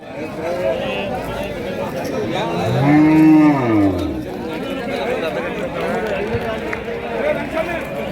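A cow gives one long, loud moo in the middle, over steady background chatter and crowd noise at a cattle market in Malladihalli, Chitradurga.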